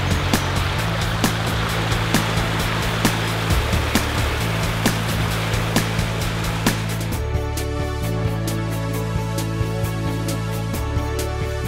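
A river flowing through Minoo Park in Osaka after typhoon damage, a steady broad rush of water running without a break, loud and close, with no voices.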